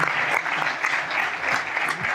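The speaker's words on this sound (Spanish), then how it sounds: "Los despedimos con un fuerte aplauso." An audience at a renewable-energy panel session claps in a steady, even burst of applause, moderately close and continuous for the whole stretch, with no speech over it.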